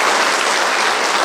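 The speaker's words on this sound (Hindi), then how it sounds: "तालियों की जो गड़गड़ाहट है वो अपने आप में कुछ कह रही है" Dense, continuous applause from an audience at a ceremony handing out appointment letters to newly hired city managers, loud and close, filling the whole moment without any voices.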